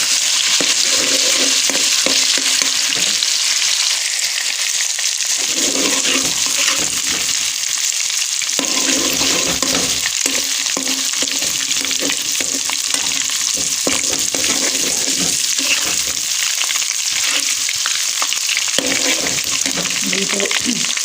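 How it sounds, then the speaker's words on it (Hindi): Garlic ginger paste frying in hot oil while being stirred, a steady loud sizzle with scraping stir strokes throughout, made during home cooking of sarson saag. "ये मैंने ऑयल में लहसुन अदरक का पेस्ट डाल दिया।"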